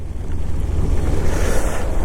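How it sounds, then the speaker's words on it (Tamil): Heavy monsoon rain during a ride in Valparai, a loud continuous wash of rain mixed with strong wind buffeting the microphone, no voices. "வேறு அப்பா சரியான மழை பெஞ்சிட்ருக்கு."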